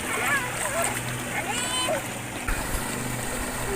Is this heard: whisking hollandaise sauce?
no